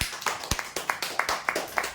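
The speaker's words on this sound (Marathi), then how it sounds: "जोरदार टाळ्या होऊ द्या." A crowd claps in a steady burst of sharp, close hand claps for a prize winner at a weekly lucky draw, the applause running continuously with no talking.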